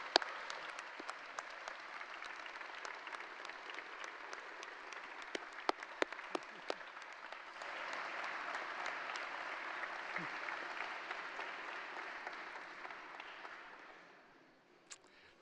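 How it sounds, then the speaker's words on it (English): Applause at a university college of engineering commencement ceremony, with a large audience clapping steadily. It starts with scattered louder claps, swells into a broad sustained wash, and fades out near the end. "stand and applaud your parents, and especially your mom"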